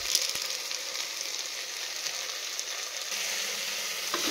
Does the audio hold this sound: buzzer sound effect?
no